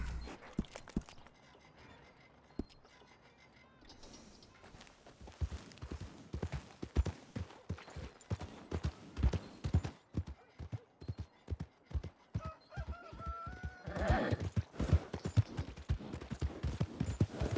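A horse in a roleplay video game clip-clops steadily at a walking pace along a road, with faint tones and a brief snort or whinny toward the end.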